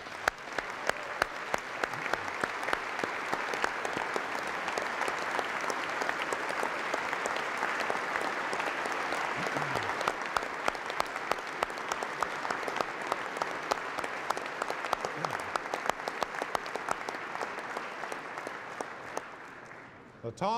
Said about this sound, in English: Let's give this team a round of applause.